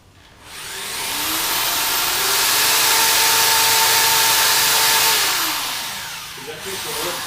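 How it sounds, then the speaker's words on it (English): A power drill bores a pilot hole into a piece of wood, its motor whining up to a steady, loud high pitch for several seconds, then winding down. "Drill a pilot hole somewhere in this piece of wood."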